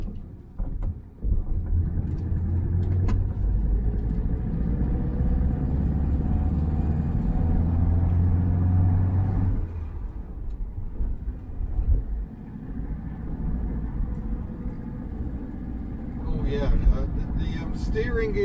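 A Triumph Mayflower car with a three-speed gearbox drives along, its engine rumbling low and steady, revs dropping for a gear change partway through, while someone talks over it from inside the cabin.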